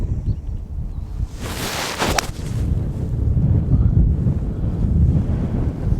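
Wind gusting across an open golf course, a steady low rumbling roar buffeting the microphone, with a brief brighter whoosh near the start.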